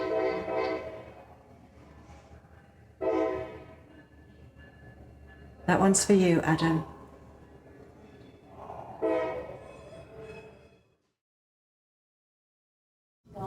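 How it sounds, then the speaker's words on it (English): A passing train near Mark Twain's childhood home sounds several long, loud horn blasts a few seconds apart, with the rumble of the train between them and a person briefly speaking in the middle. "Oh, the train."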